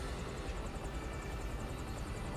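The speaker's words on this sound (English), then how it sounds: "Oh, and you have a helicopter too." A helicopter from a Star Fox video game trailer drones steadily with a fast rotor chop, a dense continuous roar heard alone without any talk.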